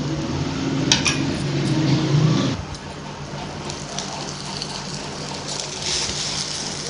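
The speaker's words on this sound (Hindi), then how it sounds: "अब हम इसे अच्छे से फ्राई कर लेंगे, पलट लेंगे इसकी साइड।" An egg spreads and fries in a pan, giving a steady crackling sizzle in the first few seconds that drops to a quieter hiss with a few faint clinks.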